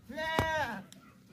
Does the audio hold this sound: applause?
no